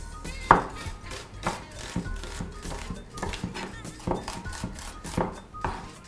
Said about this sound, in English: So I'm cutting this onion just into slices.